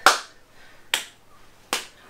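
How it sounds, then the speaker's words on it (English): Three single sharp hand claps ring out alone at a slow, even pace, each crisp and close with a quick decay in a quiet room. "just the high clap"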